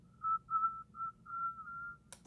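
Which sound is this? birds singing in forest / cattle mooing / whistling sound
whistling sound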